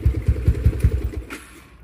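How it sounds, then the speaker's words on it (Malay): A motorcycle engine converted to a hand clutch idles close by, giving a loud, steady low-pitched chug of regular pulses that fades out near the end. "aku rasa motor aku sedap ah bunyi dia"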